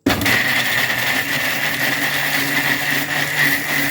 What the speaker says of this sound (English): I'll pour it into the blender and I blend.